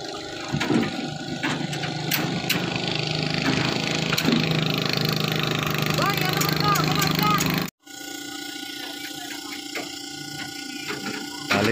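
A small motorboat carrying a survey crew near a bridge construction site drones steadily at mid distance, cutting off briefly before the engine hum resumes with a steadier tone.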